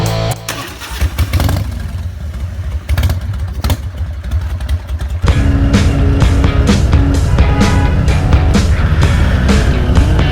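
Several motorcycles ride through the town of San Luis Oyatlán in a group, their engines droning and growing louder and denser partway through as more bikes pass close by, with no talk.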